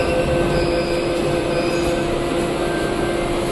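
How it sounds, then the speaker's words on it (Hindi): A Delhi Metro train pulls into the station, its loud steady rumble filling the platform with a sustained wheel squeal and faint rail clatter, no voices heard. "मेट्रो आ गई है।"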